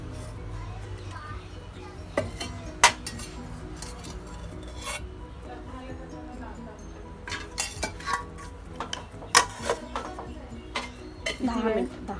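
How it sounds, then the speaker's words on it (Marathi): Oil is added to steamed chickpea-flour dough for Maharashtrian maswadi, and a lid is set over it. Scattered metallic clanks and light scraping from the pot ring out close by over a low hum, with speech in between. "आणि आता ह्याच्यात तेल आणि झाकण ठेवून द्यायचं."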